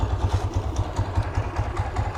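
A budget Spark SP200R motorcycle engine idling close by, a steady low rhythmic thumping with light mechanical clatter, heard alone without talk.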